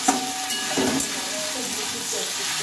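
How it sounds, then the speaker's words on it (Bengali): Eggplant frying and being stirred with other winter vegetables in a pan: a steady, close sizzle with a few light scrapes and clatters of the spoon, and no speech. "এখন দিয়ে নিলাম বেগুনটা দিয়ে আরও একটু নেড়ে চেড়ে নেব।"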